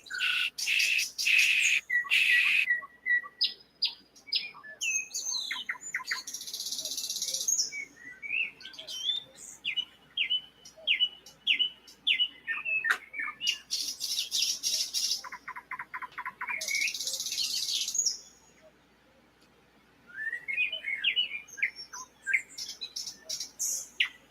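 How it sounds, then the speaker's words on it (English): Birds chirping outdoors, including a calling cuckoo, with repeated bright tweets and trills coming in bursts, fairly close and clear against quiet surroundings, with brief pauses between phrases. "Why do I hear a cuckoo back there? Cuckoo bird."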